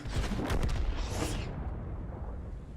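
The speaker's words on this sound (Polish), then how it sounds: "Oczywiście strzał artyleryjski." A heavy booming artillery shot from an ISU-122S in World of Tanks, with a broad blast and rumbling decay, loud and close, fading into low background noise.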